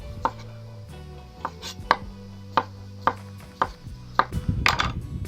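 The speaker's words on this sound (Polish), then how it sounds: "Takich ogórków wkrajamy około 5-6" A knife slices lightly salted cucumbers on a board for a cabbage salad, giving about ten sharp, evenly spaced chops up close, with a quicker flurry of cuts at the end and no talking.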